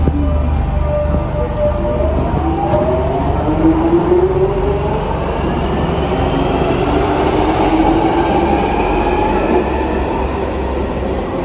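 A train rumbles at a station with a loud, steady rolling roar and some rising squeal tones from the wheels, close and continuous with no talk.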